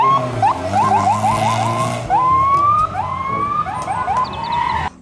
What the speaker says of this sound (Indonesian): Dan ini ada mobil polisi,